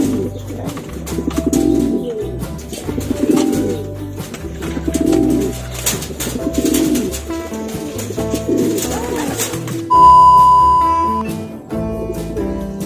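Pigeons at a pigeon racing club coo repeatedly, close and loud, in overlapping bursts. A steady electronic tone sounds briefly near the end.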